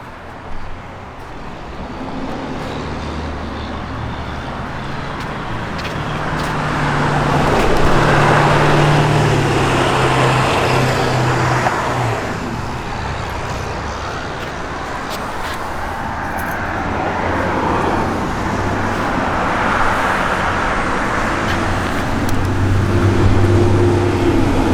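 A 1986 Chevrolet Camaro IROC-Z runs on its original exhaust, giving a low, steady engine rumble that swells twice as if revved, with a faint hiss of background noise around it.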